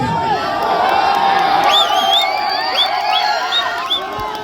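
A large crowd at a political rally in Bihar shouts and cheers together, with overlapping whoops and high voices rising over a steady roar, loud and continuous throughout.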